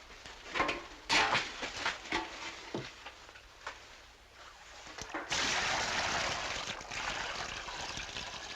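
Water from a full bucket pours out with a sudden rushing splash after a stretch of quiet shuffling and clunks, then keeps gushing and trickling steadily to the end.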